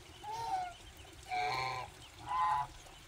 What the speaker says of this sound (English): There's mama ducks right there.